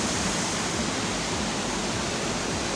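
A waterfall at Kokarai Neshkapar in Swat pours as an even, unbroken roar from across the trees, a constant rushing wash with no talk.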